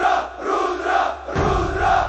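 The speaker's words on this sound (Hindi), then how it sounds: "भीड़ से एक साथ नारा उठा।" Crowd at a village wrestling bout (dangal) raising a chant together, a loud massed roar of voices in two sustained surges, with a brief dip between them and a heavier swell on the second.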